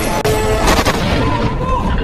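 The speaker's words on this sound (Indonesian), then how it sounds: "hingga terjadilah baku hantam disertai baku tembak" Gunfire erupts during a brawl and shootout at a colonel's headquarters in an action film, with a dense, loud clatter of shots and impacts packed into two seconds amid a busy, noisy soundtrack and a brief dip near the start.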